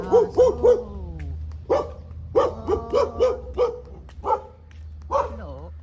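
A dog barks repeatedly in short bursts, fairly close, with a few higher yips in between over a low steady hum.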